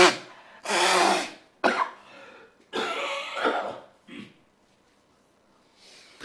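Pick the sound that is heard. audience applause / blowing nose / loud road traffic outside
blowing nose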